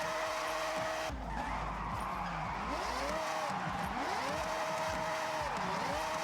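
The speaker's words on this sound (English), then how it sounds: "The car could hold a stable drift." A car in the Forza Horizon racing game holds a long drift, its tires squealing in rising and falling sweeps over a steady, loud engine roar with a locked rear differential.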